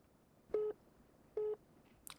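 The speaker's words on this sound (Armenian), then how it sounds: "Լիաննա Գրիգորյանը չի պատասխանում մեր զանգերին։" A telephone busy signal on an unanswered call: two evenly spaced, flat tone bursts of equal length, each under a quarter second, fairly faint over a low hiss of line noise.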